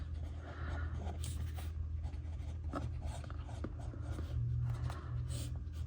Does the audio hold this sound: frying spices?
no